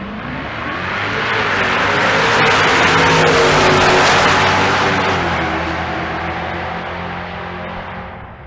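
Loud drag race launch of a Dodge Charger Hellcat and a Chevrolet S10 at Bandimere, engines roaring and swelling to a peak, then fading as the cars pull away down the strip.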